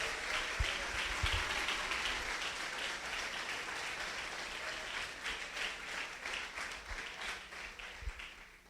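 Church congregation applauding at a service, a steady wash of many hands clapping that carries on for several seconds, fairly loud and with no talk over it.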